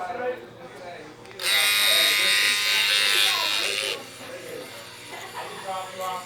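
An ACUS M1 vibration device set to 110 hertz hums and buzzes steadily, swelling into a loud, bright whine for a few seconds in the middle, with a person talking over it throughout.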